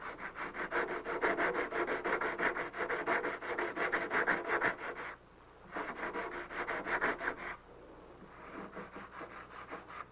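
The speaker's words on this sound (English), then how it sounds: "You can hear the sound that the sanding block makes when it's touching the ribs as you're sanding." Steady rhythmic rasping of a sanding block scrubbing back and forth over the wooden ribs of a model aircraft wing, fast regular strokes, close up, with two brief pauses.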